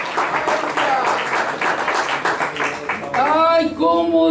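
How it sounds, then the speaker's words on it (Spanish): Church congregation clapping in praise during a sermon, a dense steady patter of applause for about three seconds, then a voice rising over it as the clapping continues underneath. "¡Dale un aplauso de gloria!"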